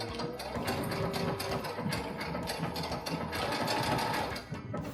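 A sewing machine stitching a dress hem whirs loudly and close in a fast, continuous rattling run, with a brief dip in speed near the end.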